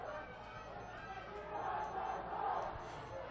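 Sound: crowd cheering at aquatic park swimming meet

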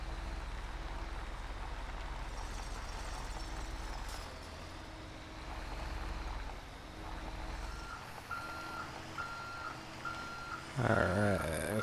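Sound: truck reversing beeps in video game GTA 5

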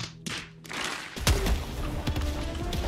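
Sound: grenade launcher firing in the video game Helldivers 2

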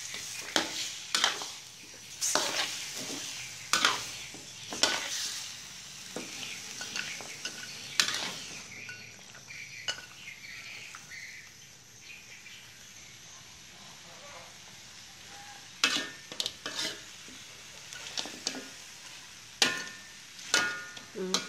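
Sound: stir-frying chicken in a pan

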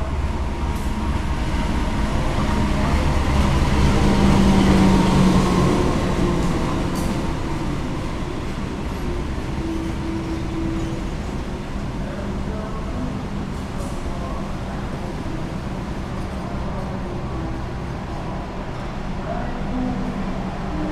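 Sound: Bangunkarta passenger train arriving at Jombang station

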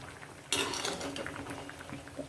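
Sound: ridge gourd chutney mixture boiling in a pot

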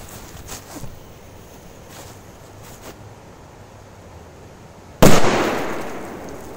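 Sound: firecracker explosion

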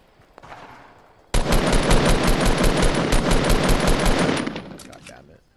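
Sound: gunfire in the video game Fortnite

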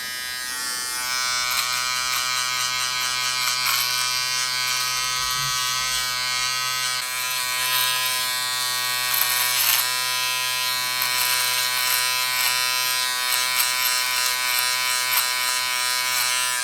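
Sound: Wahl 3615-1016 travel beard trimmer running

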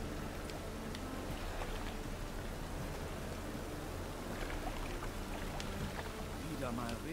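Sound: rain in video game The Witcher 3

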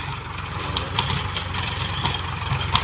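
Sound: tractor engine running while ploughing with a rotavator

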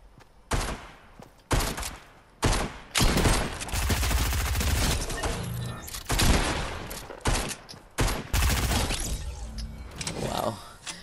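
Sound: SCAR assault rifle gunfire in Fortnite video game

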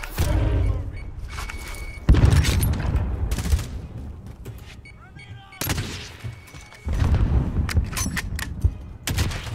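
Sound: gunfire in Call of Duty Warzone video game

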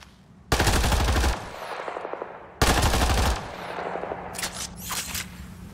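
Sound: gunfire in video game Mass Effect Andromeda

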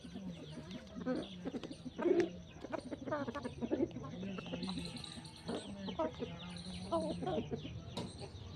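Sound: chicken (hen) clucking

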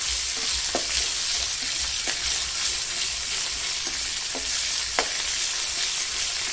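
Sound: minced pork being fried with chili paste in a pan

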